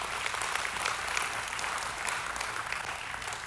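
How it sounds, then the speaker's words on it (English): Church congregation giving a round of applause, a dense and even roar of many hands clapping that is moderately loud and sustained from start to finish. "Can we just give God a round of applause for that and thank him for who he is?"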